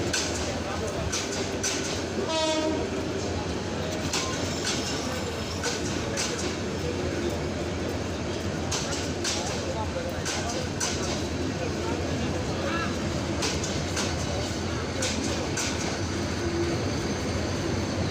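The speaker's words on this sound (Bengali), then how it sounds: "ময়মনসিংহ স্টেশনের গন্তব্যস্থানে প্রবেশ করছে ইন্টারসিটি আন্তর্নগর তিস্তা ট্রেন" An intercity train entering Mymensingh station rumbles steadily with rolling wheel noise and clatter, a brief horn-like tone early on, and a voice speaking over it.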